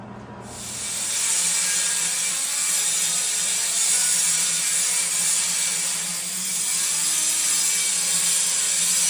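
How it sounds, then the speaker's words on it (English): A power tool cuts out a metal body panel on a budget Foxbody car, a loud continuous grinding whine that starts abruptly and holds steady, swelling slightly, with no voices over it. "Second piece is getting worked on, getting cut out right now"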